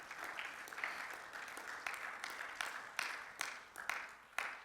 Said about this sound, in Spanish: darle el aplauso de alabanza al Señor